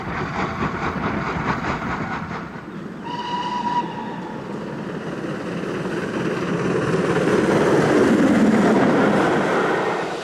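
A British Railways Britannia steam locomotive from 1951 rumbles along steadily, with a brief clear whistle near the start and the running noise swelling louder toward the end.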